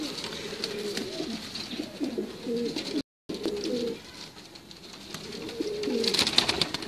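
Teddy pigeons coo in repeated low, throaty phrases from close by on a rooftop, overlapping each other with a brief dropout midway and a hissy background throughout.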